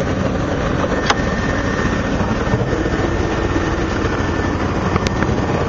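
A 1990 Chevy stepside pickup truck engine with a K&N air filter idles close by in a steady, unbroken low rumble that barely changes level for the whole stretch.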